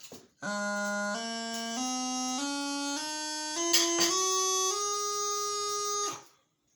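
A bagpipe chanter plays an ascending scale up to G, with eight notes stepping upward in an even rhythm, a quick grace-like flicker near the top, then a held final note, loud and reedy without speech.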